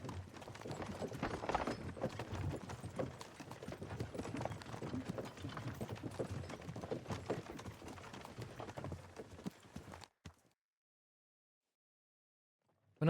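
Horse hooves clop in Kingdom Come: Deliverance II, a brisk, steady run of hoofbeats on the ground for about ten seconds, moderately close, before falling to silence.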